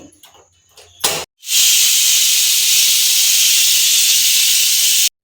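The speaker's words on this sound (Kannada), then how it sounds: "ಇದು ಮುಚ್ಚಳ ಕ್ಲೋಸ್ ಮಾಡಿ ಐದು ವಿಷಲ್ ಹಾಕಿಸ್ತೀನಿ" A pressure cooker's whistle blasts loud and steady, a sustained hiss of escaping steam lasting about four seconds, following a few quieter kitchen clatters.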